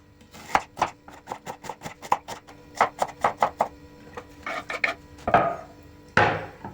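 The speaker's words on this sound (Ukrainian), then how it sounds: "Цибульку нарізати соломкою." A knife chops onion into strips on a wooden board, a run of crisp, evenly spaced close thuds that speed up into quicker bursts before a few louder scraping strokes, with no talking.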